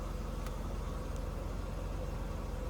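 A 1992 Mercedes W124 300E sedan idles just after a cold start, its engine turning over with an even, steady low rumble that stays constant and moderately quiet, with no voices.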